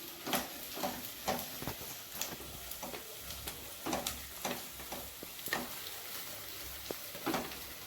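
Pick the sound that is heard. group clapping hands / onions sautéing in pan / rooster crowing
onions sautéing in pan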